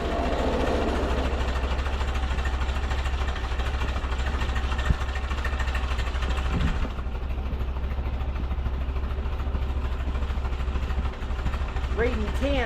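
A 1944 Ford 2N tractor engine, freshly fitted with a rebuilt carburetor, idles steadily in a continuous low rumble that holds throughout, with a faint shift in tone partway through.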